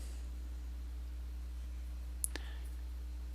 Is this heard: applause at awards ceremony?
no